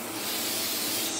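A steady, close hiss of gun oil sprayed from an aerosol onto a knife blade, one continuous burst with no talk.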